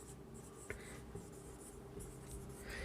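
Marker or chalk scratching across a board while a maths problem on determinants is worked out, a steady faint scraping with one sharp tap, set against a constant room hum.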